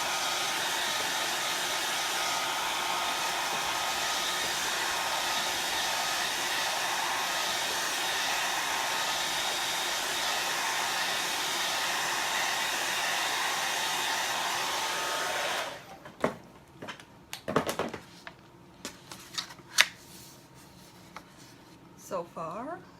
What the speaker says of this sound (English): I'm going to dry this really quick so I don't stick my finger in it